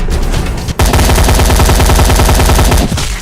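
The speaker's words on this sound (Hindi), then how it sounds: "चल कर दे ओपन फायरिंग।" Sustained loud machine-gun fire from an army film, a dense rapid stream of close shots that runs almost continuously after a brief break near the start.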